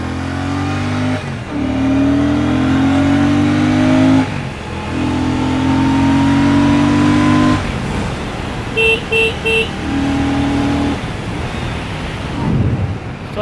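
A Royal Enfield Classic 650 Twin motorcycle accelerating on a ride, its engine rising through several gears with loud rising whines, brief drops between shifts and a short horn toot near the end.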